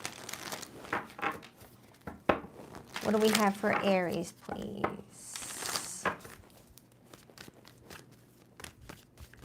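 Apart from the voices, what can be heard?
shuffling tarot cards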